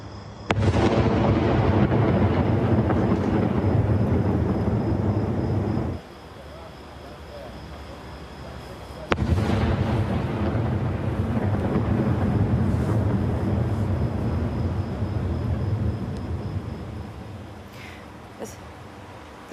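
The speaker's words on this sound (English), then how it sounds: "the sound of heavy artillery there" Heavy artillery fire in northern Israel during wartime, heard as a loud, sustained rumble of booms from a distance, with a sharp new blast near the middle and continuous low roar throughout.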